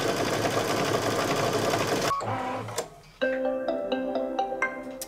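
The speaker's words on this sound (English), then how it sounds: "the final stitch is the buttonholes" A home embroidery machine stitches buttonholes on an in-the-hoop bunting project, giving a steady rapid mechanical whir at first, then a brief pause and a quicker ticking, pulsed run of needle strokes close by.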